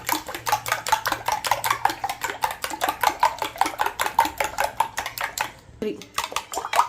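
Egg mixture for French toast being whisked in a bowl, a fast steady run of utensil clicks against the dish, close and loud, with a brief pause near the end.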